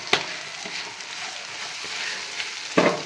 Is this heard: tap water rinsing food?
no